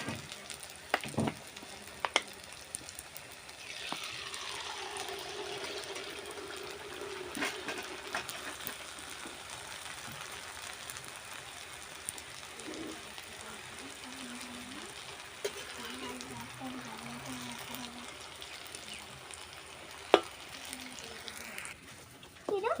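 Jalebi frying in hot oil in a pan, a steady, quiet sizzle lasting throughout, broken by occasional clinks and scrapes of a utensil.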